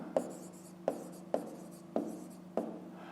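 Pen writing on paper during a fifth-grade maths exercise, five short scratchy strokes at a steady pace, close and quiet with no voices.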